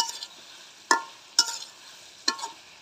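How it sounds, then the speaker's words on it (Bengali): Black taro stems are sautéed in a pan for a koi fish curry, a soft sizzle under three sharp spatula scrapes against the metal, spaced apart and close up. "কষুটাকে আবারও ভালো করে কষিয়ে নেব।"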